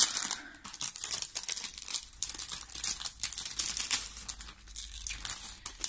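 Plastic packaging around Polaroid-style photo frames is crinkled and torn open up close, a busy run of crackling rustles and sharp tearing bursts with no voices.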